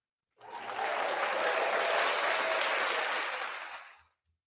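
A round of applause for the Celtics swells in quickly, holds as a dense even wash of clapping for about three seconds, then stops cleanly.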